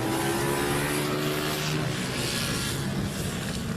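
A 28-bike grid of Sayamoto Minibike 140 racing minibikes at Ellough Park drones loudly and continuously, with several engines revving and overlapping in a steady, buzzing roar.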